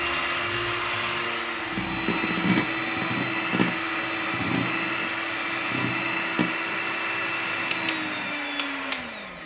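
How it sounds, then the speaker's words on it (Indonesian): An electric hand mixer whirs at high speed through five egg whites in a bowl, a steady, loud, close drone with faint knocks from the beaters against the bowl before it winds down at the end. "Lalu mixer dengan kecepatan tinggi sampai mengembang dan kaku ya."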